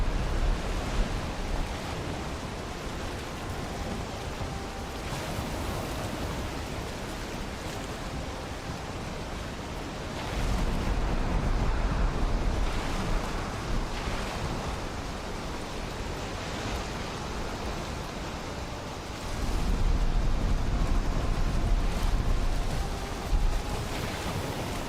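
A boat sailing over ocean waves in the Valheim video game: a steady broad wash of water and wind that swells louder in a couple of stretches, with no voices.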